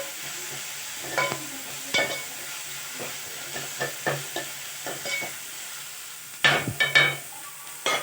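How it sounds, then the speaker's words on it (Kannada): Tomato fries quietly in a pan with a soft sizzle underneath, while a spatula scrapes and taps against the pan in irregular strokes, growing into a quick cluster of louder scrapes near the end. "ಈ ಟೊಮಟೊ ಹಣ್ಣು ಚೆನ್ನಾಗಿ ಮಾಡಿ ಒಂದು ಸ್ವಲ್ಪ ಕರಗಬೇಕು, ಅಲ್ಲಿವರೆಗೂ ಹುರ್ಕೊಳ್ಳಿ."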